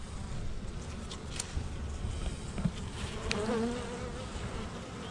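A steady, dense buzzing of many honeybees around a nucleus hive fills the air, continuous and fairly close, with a few individual bees droning past.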